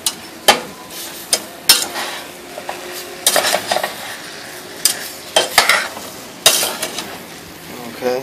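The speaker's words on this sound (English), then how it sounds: "just stir it around" A spoon clinks and scrapes inside a pot as strawberry topping with lemon juice is stirred, giving irregular sharp metallic knocks and rattles close by over a soft low sizzle, with no voices.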